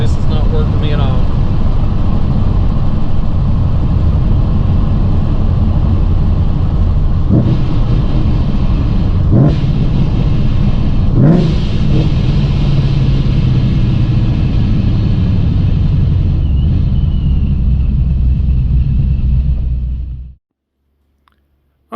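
A Ford Coyote V8 Mustang with a ghost cam tune drives along a country road, its engine a loud, continuous low rumble with a few brief surges before it abruptly cuts off near the end.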